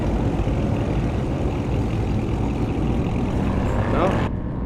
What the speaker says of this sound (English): It's a vehicle nearby though that's pretty noisy.